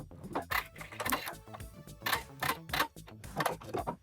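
A sewing machine back-stitching a hem on a dolman sleeve top, giving a quick, rhythmic mechanical chatter in short bursts, followed by the brief snip of the thread being cut.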